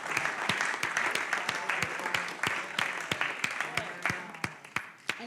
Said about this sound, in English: Let's just give him another hand of applause.